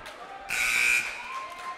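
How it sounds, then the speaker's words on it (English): A gym buzzer sounds at a high school varsity volleyball match, one sharp electronic blast of about half a second over a murmuring indoor crowd and faint talk. "That buzzer gets me every time."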